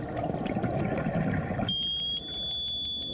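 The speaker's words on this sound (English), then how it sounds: "these divers here encounter an actual sonar ping, and it is not as pleasant as fictional media portrays." An underwater sonar ping reaches scuba divers: muffled churning water gives way to a single sustained high, pure electronic tone that holds steadily to the end, loud and close.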